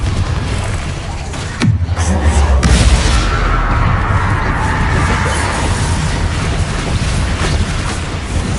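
A Confringo fire spell goes off in Hogwarts Legacy, a loud burst that quickly gives way to a sustained roaring, crackling rumble that carries on for several seconds.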